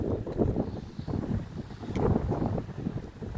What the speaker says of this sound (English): Oh, that was a big gust of wind.